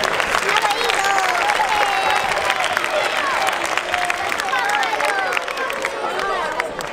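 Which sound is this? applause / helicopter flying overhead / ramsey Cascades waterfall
applause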